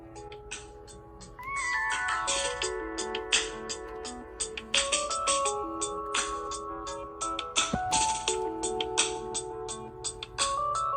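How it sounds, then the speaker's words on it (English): A phone alarm rings with a bright repeating electronic melody, steady and moderately loud for several seconds, no voices. "That's my alarm to go back to work."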